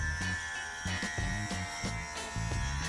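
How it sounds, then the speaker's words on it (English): A cordless hair clipper buzzes steadily up close, its hum pulsing in a regular rhythm as it passes over hair, with no talking. "see if the clipper is as close to skin"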